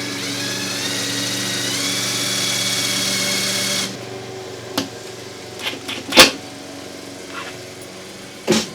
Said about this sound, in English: I'm going to just start driving a screw in about this location